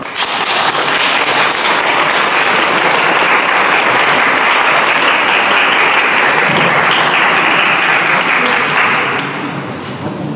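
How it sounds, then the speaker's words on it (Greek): A crowd applauding at a school celebration for the 28 October anniversary, loud sustained clapping from many people lasting around ten seconds, fading slightly at the end. "αξίζει χειροκρότημα όλων"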